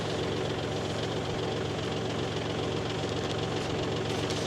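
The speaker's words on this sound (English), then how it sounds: "the tractor is just shaking and baking" A tractor engine runs and shakes while clearing a flower field, giving a loud, steady, rattling rumble with a knocking vibration that never lets up, with no talk over it.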